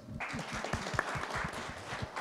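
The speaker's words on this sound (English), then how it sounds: "I think a round of applause." Short round of applause from a panel audience at a business event, soft clapping from the room with a voice talking underneath.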